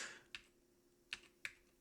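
An old-style secondhand Mac keyboard gets three sharp, sparse keystrokes, clicky and close in a quiet room, with no one speaking.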